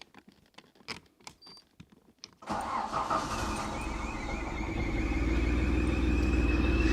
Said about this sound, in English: But the engine is actually running